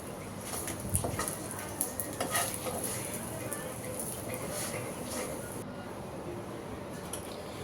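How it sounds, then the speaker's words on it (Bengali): Paratha frying in olive oil in a home kitchen pan, a steady soft sizzle throughout with occasional scraping or stirring clicks of a utensil against the pan. "অলিভ অয়েল তেল দিয়ে ভাজছি"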